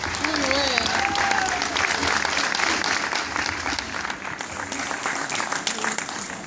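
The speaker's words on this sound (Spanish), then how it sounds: "Otro fuerte aplauso para el Jedi" A large audience at a Star Wars fan gathering in Argentina claps strongly and steadily for a Jedi-costumed participant, and a voice can be heard over the sustained applause.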